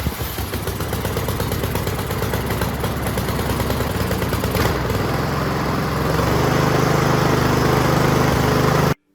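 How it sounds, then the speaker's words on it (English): A repaired walk-behind lawn mower's small engine runs loud and close with a rapid, steady putter, then settles into a smoother, even drone before cutting off abruptly at the end; no one speaks. "Once everything's reinstalled, turn your fuel back on and try and start it."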